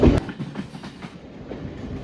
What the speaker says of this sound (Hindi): तो फाइनली हमने ये ट्रेन पकड़ ली है जो हमें पकड़ना था।